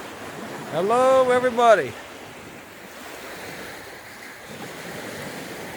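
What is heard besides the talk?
ocean waves on a beach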